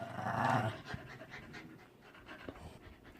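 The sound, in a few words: dog barking and panting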